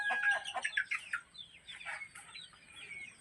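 Several chickens clucking and squawking close by, busy overlapping calls that fade to quieter chatter, with no one speaking.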